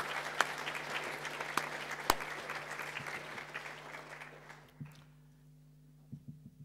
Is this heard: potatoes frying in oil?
no